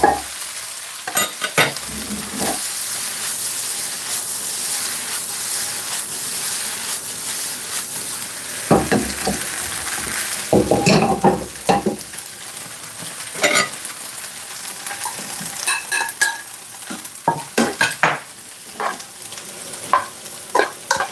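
Leftover meat and noodles stir-fried in a pan rather than a wok, with a steady loud sizzle and repeated sharp scraping and clanking of a utensil stirring through the food.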